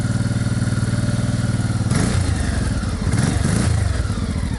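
A motorcycle idles with a throbbing, chugging engine beside a sandy roadside, then revs and accelerates away in loud bursts with rising engine pitch and clatter, close to the microphone.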